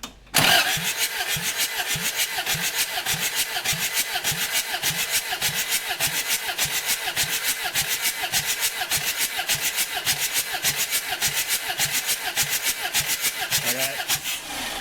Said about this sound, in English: Crank it, just keep cranking.